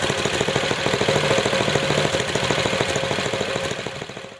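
A Tecumseh small engine with a freshly tuned carburetor runs at high speed, a loud continuous rapid-firing buzz with dense even pulses that holds steady, then eases slightly at the end, with no voices.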